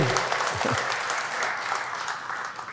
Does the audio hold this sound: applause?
yes